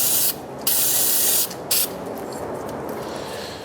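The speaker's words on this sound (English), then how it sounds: "We'll just give the shaft a quick clean off now that the sprocket's not there with a bit of CRC brake clean" CRC brake cleaner sprays onto the front sprocket shaft of a DS450X motocross bike in two short hissing bursts, the second longer, with a quieter residual hiss afterward.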